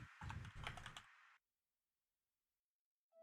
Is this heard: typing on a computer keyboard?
yes